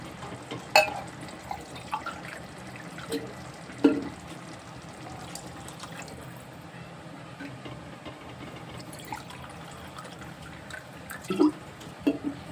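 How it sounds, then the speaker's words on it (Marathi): Water goes into a pot of whole masoor lentil pulao, heard as a soft steady liquid wash with scattered drips and light clinks against the pot, close but fairly quiet. "आता मिक्स केल्यानंतर ह्यात आपण पाणी घालून"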